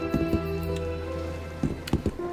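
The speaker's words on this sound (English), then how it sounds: "Okay, it's hailing." Hail falling in a video game gives a pattering, rain-like texture broken by a few sharp impacts, heard steadily at a moderate level under a droning tone.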